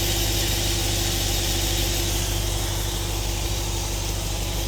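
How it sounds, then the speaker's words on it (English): The engine of an Aston Martin Lagonda Vantage idles steadily, a loud, even hum with a faint hiss over it and no changes in revs, heard up close while being tuned on its carburettors. "we'll get on and tune the engine and get it running smoothly at idle"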